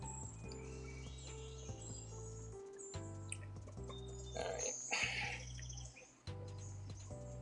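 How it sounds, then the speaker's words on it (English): An alarm clock plays a birdsong tone, with chirps and tweets repeating over a steady tonal electronic background, faint and slightly muffled. "So birds chirping. It's kind of a relaxing alarm clock sound"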